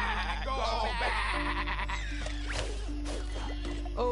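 Sheep bleating in the Skylanders Imaginators video game, several wavering cries rising over a low steady game hum and other in-game effects, fairly faint overall.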